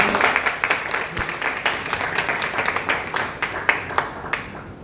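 Audience at a Hindi poetry gathering presented by the Railway Board applauds, scattered individual claps growing into steady clapping that trails off toward the end, moderately near.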